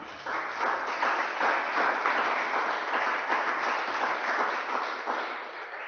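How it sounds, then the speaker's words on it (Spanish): Church congregation applauding together for about five seconds, a dense, even patter of clapping that swells slightly and then tapers off. "Damos un aplauso al Espíritu de Dios."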